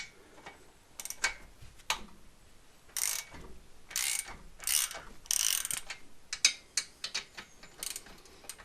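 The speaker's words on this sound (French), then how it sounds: "Je débride bien les 3 écrous avant de desserrer complètement, histoire de ne pas fausser la culasse." Wrench ratcheting as cylinder head nuts are loosened on a Citroën 2CV engine, close, irregular bursts of ratchet clicks and metallic turning with short pauses between strokes.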